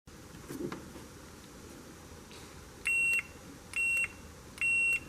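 Continuity tester checking switch connections on a Kubota LX3310HSDC tractor third-function wiring job, giving three sharp, loud electronic beeps of about half a second each over quiet background noise.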